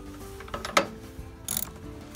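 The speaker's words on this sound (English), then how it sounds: "And now we'll get it all tightened up." A ratchet clicks in short bursts while tightening a battery terminal connection on a Jeep JK, close and fairly quiet, with a few metallic clanks between the ratcheting strokes.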